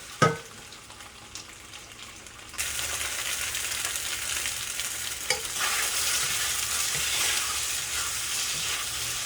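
Rice noodles sizzle and crackle in a hot wok, starting after a brief clank and continuing loud and steady, with occasional stirring scrapes.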